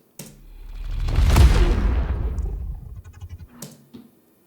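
A swelling whoosh builds into a heavy low boom that decays with rumbling tail, followed by a couple of faint knocks.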